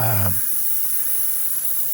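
A spray gun hisses steadily as it applies Candy Caribe Blue paint in a custom paint job, a continuous airy spray heard close up after a brief bit of talking at the start.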